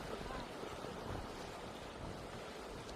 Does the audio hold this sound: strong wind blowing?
yes